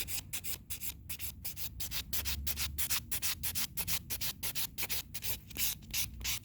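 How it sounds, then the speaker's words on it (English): A nail buffer scrubs back and forth over a nail wrap repair patch, making a close, steady rhythm of quick rasping strokes, about three per second, with no voice. "now let's buff."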